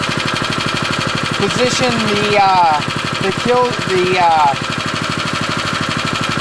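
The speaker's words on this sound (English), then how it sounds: "Return your throttle to the idle position." A Sand Man machine's engine idles with a steady low rumble throughout, while someone talks over it giving operating instructions.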